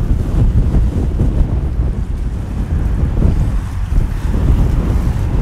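Steady wind buffeting a boat-mounted microphone fitted with a wind muff, out on open water at sunset, a constant loud low rumble with sea and boat noise underneath and no speech.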